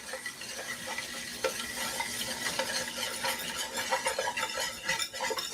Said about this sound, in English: Gonna come in with our whisk.